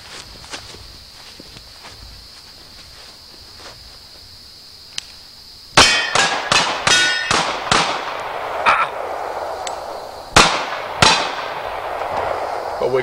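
Gunfire at a shooting show with steel targets: after a quiet stretch, a rapid string of sharp, loud shots rings out, followed by a few more spaced shots, each with a ringing decay.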